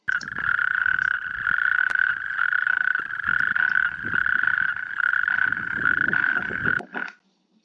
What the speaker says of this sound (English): they're the loudest amphibian in Europe, with their calls being able to be heard up to 2 kilometers away